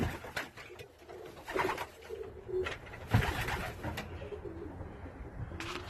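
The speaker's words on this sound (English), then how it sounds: "Some good birds in here" Pigeons coo softly and repeatedly at close range inside a wooden loft, with occasional rustling and wing flutters among the birds.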